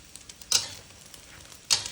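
An egg frying in oil in a pan is flipped, giving two brief loud sizzling bursts separated by a quieter crackling lull, heard alone without any talk.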